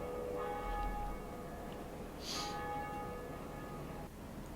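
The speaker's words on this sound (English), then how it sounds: "Now I get to ring that bell and everyone gets to hear it in their games" A bell rung in the Dark Souls video game tolls with a ringing metallic tone and sustained overtones, plus a brighter strike partway through, all fairly quiet against a low background hum.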